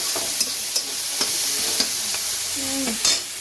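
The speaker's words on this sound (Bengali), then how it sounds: "এখন তেলের মধ্যে একটু কেটে রাখা ওই যে সবজি সবজিগুলো সবগুলোই দিয়ে দিচ্ছি" Chopped winter vegetables sizzle steadily in hot oil, with periodic clicks and scrapes of a spatula stirring them close by.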